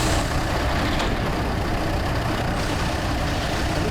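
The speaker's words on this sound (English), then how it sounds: "I also have a furnace exhaust, and I also have the sound of a Land Rover engine, an air compressor, some steam hiss being released." A factory ambience loop layers a press, furnace exhaust, a Land Rover engine, an air compressor and released steam hiss into a loud, steady, dense industrial roar with a brief hiss burst, no voices.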